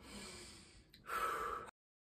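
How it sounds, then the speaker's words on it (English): One deep breath, a soft airy inhale, a short pause and then a longer breathy exhale, heard close and quiet before sudden silence. "Take a deep breath."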